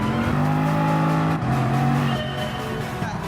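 A black and red Bugatti VGT concept race car in Gran Turismo Sport at Mount Panorama, its engine holding a loud, steady high-pitched drone before shifting tone midway and carrying on at a slightly changed pitch.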